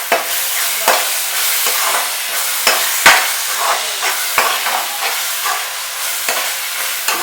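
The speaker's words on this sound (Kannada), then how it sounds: "ಶುಂಠಿ ಬೆಳ್ಳುಳ್ಳಿ ಪೇಸ್ಟು 2 ಸ್ಪೂನ್ ಶುಂಠಿ ಬೆಳ್ಳುಳ್ಳಿ ಪೇಸ್ಟ್" Ginger garlic paste fries in a hot pan, giving a steady close sizzle broken by regular scraping stirs of a spoon, with no one speaking.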